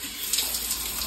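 Water pours steadily from an outdoor shower, a constant close splashing hiss with no voices over it.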